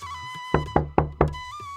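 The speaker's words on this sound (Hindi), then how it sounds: "इतने में दरवाजे पर जोर से दस्तक हुई।" Four loud, sharp knocks on a door, evenly spaced in a quick series, heard alone with no talking.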